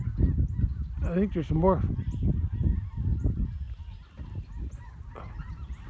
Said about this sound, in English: They're all flying north.